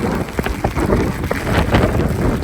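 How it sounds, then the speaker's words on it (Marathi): Heavy rain pours steadily with a roaring, gusty wash of wind at a beach near Rameshwaram, dense and loud throughout, with no voices. "खूप पाऊस पडतोय."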